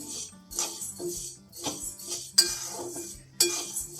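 Wheat grains are stirred in a pan while roasting on a low gas flame, giving repeated scraping and clinking strokes of a spoon against metal at a slow, uneven rhythm, close and moderately loud.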